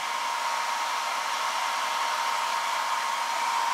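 Hair dryer running on a plastic pot to dry a thin coat of paint, a loud, steady, unbroken blowing whir held close for the whole stretch with no voices.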